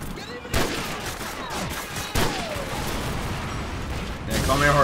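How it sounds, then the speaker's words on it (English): Bursts of gunfire crack through a busy, noisy battle scene in Call of Duty 4, with sharp shots near the start and middle and voices talking over the commotion. "Well, I'm hearing gunfire."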